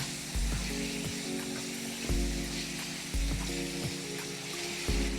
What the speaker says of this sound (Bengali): চিংড়ি মাছগুলো দিয়ে দেব। চিংড়ি মাছটা আমি বেশি ভাজবো না